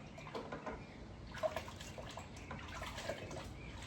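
Thick foam soap poured into water for washing, a soft continuous liquid pour with gentle trickling and dripping, fairly quiet and steady with no voices.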